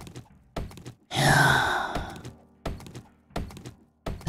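A tree chopped down in the video game 7 Days to Die crashes with a broad, loud rushing thud, set among sharp, evenly spaced chopping knocks before and after.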